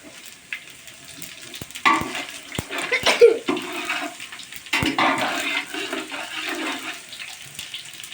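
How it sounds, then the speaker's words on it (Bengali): About three spoonfuls of cumin seeds frying in a pan for khichuri, a soft uneven sizzle with occasional sharp clicks and stirring scrapes rising and falling. "এটা আনুমানিক 3 চামচ জিরা। এটা প্রায় হয়ে গেছে ভাজা।"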